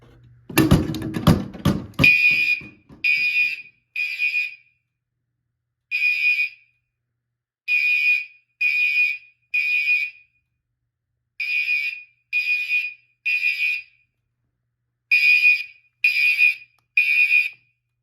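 Loud, piercing fire alarm horns, three sounding together during a system test, blaring in short repeated bursts in groups of three, preceded by a brief clatter; silence between groups.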